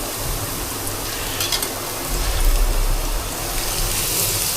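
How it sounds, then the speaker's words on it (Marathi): Cumin seeds crackle and sizzle in hot oil in a kadhai while Mumbai-style vada pav is being made, a dense steady frying hiss that swells briefly midway, with no talk. "हे जिरा टाकत आहे."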